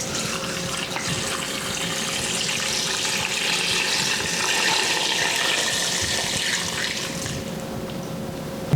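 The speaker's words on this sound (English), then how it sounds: "And 8 cups of cold water." Cold water pours steadily into a soup pot, eight cups in a continuous close splashing rush that swells slightly before tapering at the end.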